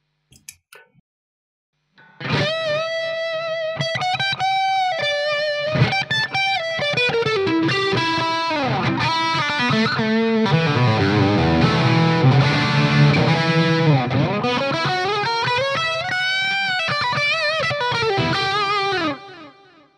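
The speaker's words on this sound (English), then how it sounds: "quite clean sounding reverb there. Even though there was a lot of drive on, the reverb still didn't get too mushy." An electric guitar played through a heavily driven amp and a reverb pedal rings out in sustained, distorted notes and bends, the tail staying clean rather than mushy, continuous and loud for most of the passage.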